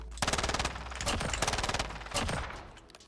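Rapid automatic rifle fire in Warzone, two long bursts of steady evenly spaced shots with a short break between them, loud and close, with no talk over it.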